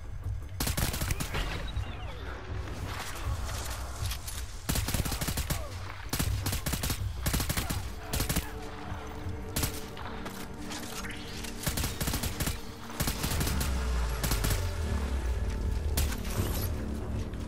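Sustained bursts of rapid gunfire from the video game Death Stranding rattle loudly and near for the whole stretch, dense volleys with heavy low booms and crashes layered over a constant musical and effects backdrop.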